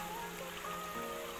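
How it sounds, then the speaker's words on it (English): Water rising from the ground at a natural hot spring in North Garo Hills, a steady soft trickling and streaming wash, faint and continuous throughout with no voices. "water is coming from the ground."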